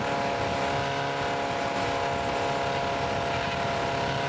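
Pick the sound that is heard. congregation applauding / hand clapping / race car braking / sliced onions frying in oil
race car braking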